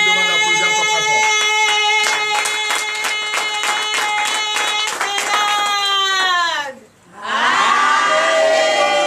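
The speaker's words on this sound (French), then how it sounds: "Que je vous demande d'applaudir encore très fort." A church congregation at a Sunday service in Benin claps in a loud, fast rhythm under strong sustained singing or shouting voices, then dips briefly to near silence before the crowd noise swells back.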